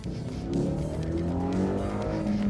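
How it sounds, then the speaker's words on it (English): A Subaru Impreza four-cylinder engine drones with a deep, throaty exhaust note, steady and close, rising slightly in pitch as it accelerates. "they have one of the better sounding exhaust notes to me for a 4-cylinder"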